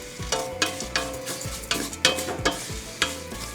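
Vermicelli and meat stirred while frying in a pot, a close sizzle broken by rhythmic spoon scrapes and knocks against the pot about every half second.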